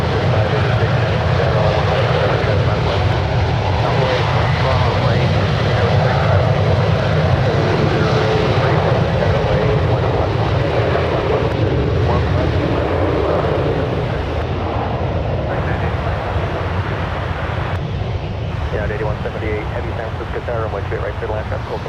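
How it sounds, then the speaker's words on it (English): United Airlines jet departing SFO on runway one right, a loud sustained engine roar building and rumbling through the whole stretch, with people talking over it. "On one right, we have United Airlines flight 729 departing to Chicago"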